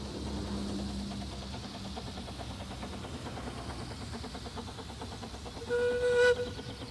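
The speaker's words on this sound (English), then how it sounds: "We now return to the Festiniog Railway for a short trip to Minford and nearby" Steady rumble of a small narrow-gauge Festiniog Railway train in North Wales running along the track, with a sharp whistle sounding briefly near the end.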